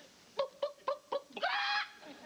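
A comedic chicken sound effect in a late-1990s sitcom, Teen Angel: four short, evenly spaced clucks followed by a longer, drawn-out squawk, clear and close with no talking over it.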